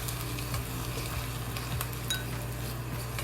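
Hot peanut oil poured over cut scallion, ginger and cilantro sizzles steadily, with occasional light clinks and scraping stirs of a utensil against the dish; no one speaks.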